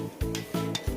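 Orange chicken sauce being stirred in a bowl for frying chicken, with three steady, close rubbing strokes in a regular rhythm and no talking.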